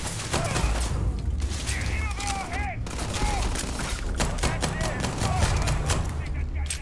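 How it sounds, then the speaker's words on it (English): Repeated volleys of gunfire during combat in Starfield crackle loudly and almost continuously, with short gaps, while a person talks over the shooting. "Taking a couple shots"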